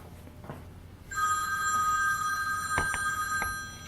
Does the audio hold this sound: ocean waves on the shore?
no